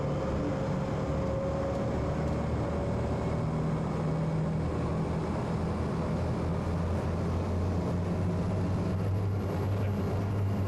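Modern diesel engines of a high-speed launch boat running at speed, a loud steady low drone with hull and water rush, continuous and close, no talking.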